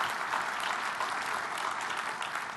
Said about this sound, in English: So let's give a big round of applause to everybody who's supporting this event